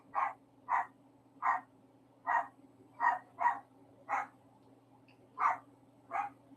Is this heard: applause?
no